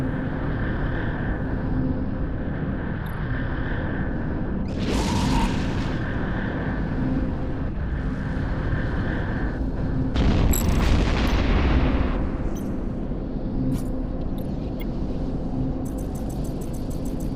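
Weapons fire and explosions around a Stratios ship in the space game EVE Echoes during a PvP fight: a steady droning engine-like hum broken by a few loud booming blasts and sweeping bursts, with no talking.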